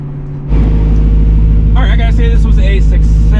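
A Coyote V8-swapped Ford Mustang cruises with a steady, loud low engine rumble that starts abruptly and holds, while people talk over it from inside the car.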